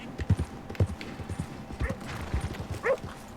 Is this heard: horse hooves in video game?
yes